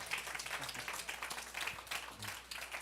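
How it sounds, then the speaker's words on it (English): Moderate applause from a church congregation at a Sunday celebration service, a steady spread of clapping that holds throughout without a break. "Can we give Mr. Warren Cooper another round of applause?"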